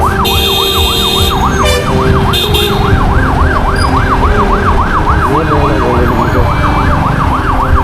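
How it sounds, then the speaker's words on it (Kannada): An ambulance stuck in traffic at a red signal in Hubballi-Dharwad, recorded from a motorbike. Its loud, close siren wails steadily throughout, with bursts of rapid high yelping and horn-like tones over engine and road noise. "ಆಂಬುಲೆನ್ಸ್ ಅಷ್ಟು ಹೊಡ್ಕೊತಾ ಇದ್ರೂ ಗ್ರೀನ್ ಸಿಗ್ನಲ್ ಕೊಟ್ಟಿಲ್ಲ"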